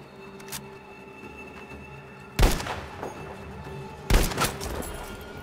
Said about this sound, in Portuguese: Quem tá atirando em mim, cara?